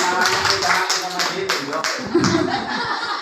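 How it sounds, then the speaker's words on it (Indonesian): Applause from an audience at a school teachers' module session, brisk irregular clapping with some taps, mixed with chuckling and speech nearby. "tepuk tangan untuk kita semua ya"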